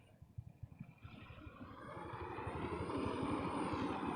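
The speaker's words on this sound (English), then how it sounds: "I can hear the helicopter." A helicopter flies over an airshow in Gatineau, Canada. Its rotor thuds in a steady rhythm, and the engine roar swells louder as it comes nearly directly overhead, with no talking.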